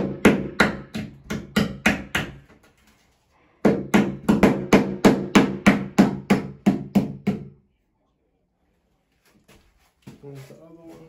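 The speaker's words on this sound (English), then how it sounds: "Little hammer." Rapid series of sharp metallic taps from a small hammer driving wall anchors for a grab bar, two bursts of about a dozen strikes each separated by a pause, close and loud, with brief speech at the end.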